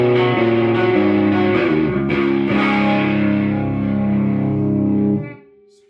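Electric guitar played through a vintage Sano 160R amp with guitar volume, tone and reverb all maxed, a loud, heavily distorted sustained chord that rings out and then cuts off near the end.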